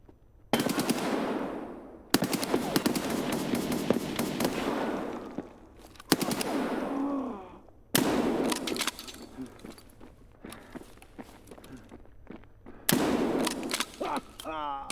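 Loud, close automatic gunfire from an Escape From Tarkov firefight comes in several long rattling bursts with short gaps between them.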